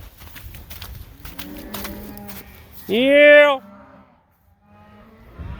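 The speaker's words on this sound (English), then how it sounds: "It only takes one smart cow, and I've got one." Cattle in a pasture give one loud, drawn-out moo up close, while someone talks and calls out before it and quiet follows after.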